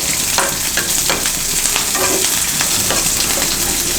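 Chilies frying in hot oil in a pan for a cabbage coconut dish give a steady, close, fairly loud sizzle, with occasional stirring scrapes and pops running throughout.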